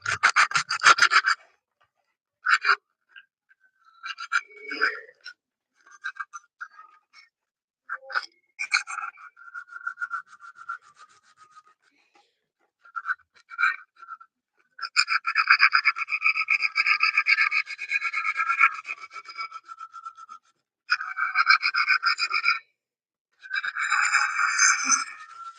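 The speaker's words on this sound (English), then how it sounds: "sand this down. Sand down the surface." Sanding the surface of a puzzle clock for a cubing competition: bursts of rough, close rubbing and rasping strokes, some short and scattered, then longer steady stretches of back-and-forth scraping with brief pauses between.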